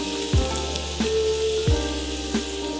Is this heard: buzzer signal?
no